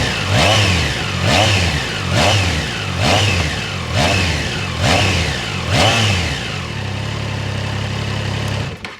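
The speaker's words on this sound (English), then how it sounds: "let's listen to the exhaust sound of this motorcycle" A Triumph Trident 660 motorcycle exhaust revs up and down in about six repeated throttle blips, each rising and falling in pitch, loud and close, settling to a steady idle before cutting off.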